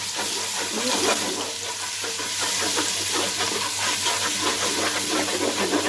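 Garlic paste frying in oil with fried onions for beef nihari, a dense, continuous close sizzle with crackling spatter and occasional stirring scrapes, no voices.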